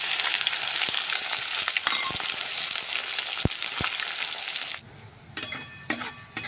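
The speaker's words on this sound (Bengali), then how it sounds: "তেল গরম হয়ে গেছে, এবার দিয়ে দেবো পেঁয়াজ।" Onions crackle and hiss as they fry in hot oil seasoned with panch phoron and bay leaf for a Bengali mutton kosha, a steady dense sizzle near and loud that thins out toward the end, with a few sharp clicks.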